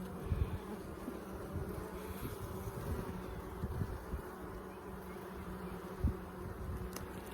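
Honey bees buzz steadily during a hive inspection at Soybean Bay Farm, a dense, continuous low drone of many bees with a few brief knocks and bumps, and no voices.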